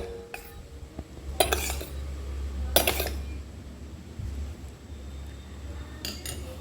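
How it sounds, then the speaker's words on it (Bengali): Egg whites with a pinch of salt being whisked in a bowl, short bursts of rapid metallic clinking separated by pauses over a low background hum, with no talking. "আর এবার আমি ডিমের সাদা অংশ নিয়েছি আর এর ভেতর দিয়ে দেবো সামান্য একটু লবণ, দিয়ে এটা খুব ভালো করে ফেটিয়ে নেব"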